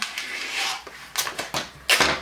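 Michaels Make Market permanent vinyl being trimmed by hand, a few close, sharp cutting and peeling sounds in short bursts with quiet gaps between, no talking.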